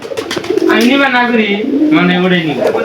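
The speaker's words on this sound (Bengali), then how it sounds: "কবুতরগুলো কিন্তু আমরা নেটের মধ্যে ছেড়ে দিচ্ছি সকালবেলায়" Pigeons released into a net enclosure in the morning give close, loud, throaty coos in two rolling phrases.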